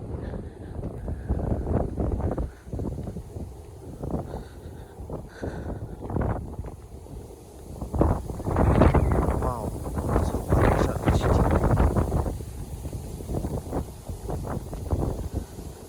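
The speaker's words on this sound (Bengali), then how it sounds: "খুবই ঠান্ডা বাতাস, ঘন বিদ্যুৎ চমকাচ্ছে।" Cold wind blows across a river in rural Bangladesh during rain, a steady gusty rumble buffeting the microphone throughout, with surges of louder blasts near the middle and end.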